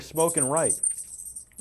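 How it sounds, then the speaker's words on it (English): Metal tags on a Yorkie poo's collar jingle lightly as the dog runs, faint beneath someone talking. "that's the dog with his jingles on his collar"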